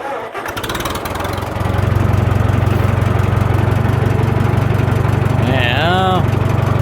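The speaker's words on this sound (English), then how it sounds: "Alright, start the old girl up. No choke because I've had it running." An old tractor engine cranks over briefly and catches, then settles into a loud, steady, close-up chugging idle with a fast regular beat that keeps running throughout.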